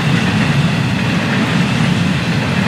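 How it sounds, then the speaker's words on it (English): An FEC 210 freight train of empty cars rolls past close by, a dense, continuous roar of wheels and rattling wagons with no letup. "This train, the 210, full of empties."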